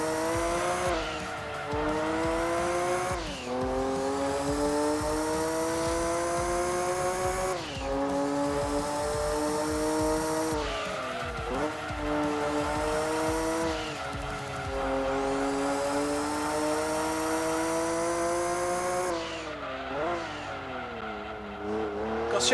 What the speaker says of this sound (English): I guess the engine sound that you're hearing is quite repetitive